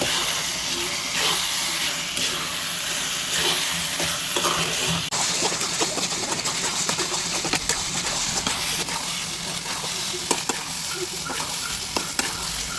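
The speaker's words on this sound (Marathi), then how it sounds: "आपला भात सुटसुटीत होईपर्यंत परतवून घेऊयात" Coconut rice with cardamom powder being sautéed in a pan until the grains separate, a continuous hissing sizzle with scattered scraping and tapping of a spoon, growing busier toward the end.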